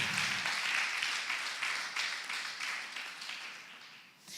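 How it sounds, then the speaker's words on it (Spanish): A church congregation claps together in praise, a steady dense patter of many hands filling the room for a few seconds before tapering off near the end. "Glorifica al Señor nuevamente con tus palmas."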